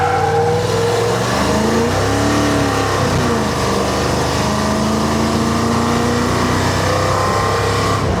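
A car cruising at about 40 mph on a Chinese carburetor fitted with a booster and tuned lean, its steady engine drone and road noise continuous and fairly loud, with pitch wavering slightly throughout and no talk.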